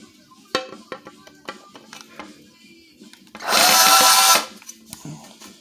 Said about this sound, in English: now we're gonna deburr